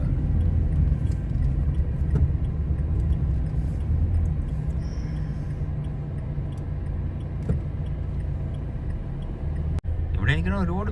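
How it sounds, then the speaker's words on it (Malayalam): Tour buses pulling up outside the Sheikh Zayed Grand Mosque in Abu Dhabi give a steady low engine rumble and road noise throughout, with faint background voices. "ടൂർ ബസ്സുകളൊക്കെ വരുന്നുണ്ട്."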